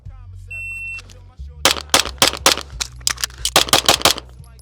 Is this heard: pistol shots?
yes